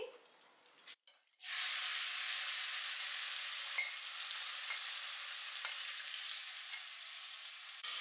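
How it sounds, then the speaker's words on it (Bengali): Marinated chicken going into a hot pan, a brief clatter and then a sudden loud sizzle that holds steady and close for several seconds. "এবার জাস্ট এই ম্যারিনেটেড চিকেনটা অ্যাড করছি।"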